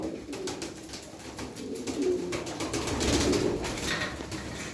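Pigeons coo softly and continuously, with Bango and Kırçıllı Bango birds among them, a low steady murmur of several birds close by with no talking.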